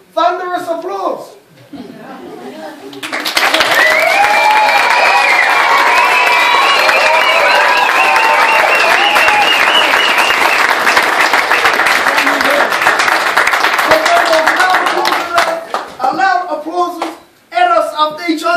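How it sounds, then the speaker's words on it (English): Thunderous applause and cheering from a crowd inside a house at Tamaki Maori Village: loud, dense clapping that swells and holds steady for about twelve seconds, with a voice speaking briefly before it starts and again as it fades. "Thunderous applause"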